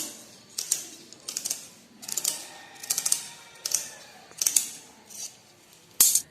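Scissors snip through the elastic waistband of old leggings, a series of about eight crisp, close cuts in a steady rhythm with brief gaps between them, heard alone.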